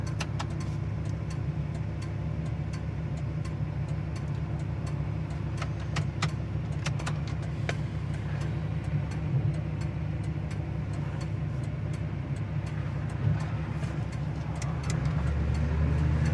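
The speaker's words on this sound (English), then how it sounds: "Turning signal indicator works on the dash." Steady, faint turn signal ticking clicks repeat at an even pace over a low idling engine hum inside a 1979 Chevrolet Camaro Z28, continuing for the whole stretch.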